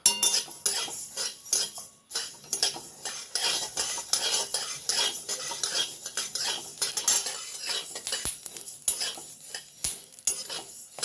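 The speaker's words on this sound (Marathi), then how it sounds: "आता मी हे अर्धी वाटी धने घेतलेले आहेत ते भाजून घेणार आहे" Half a cup of coriander seeds dry roasting in a pan, a steady rattle and scrape of stirring with metal clinks against the pan, close and moderately loud, with no talking.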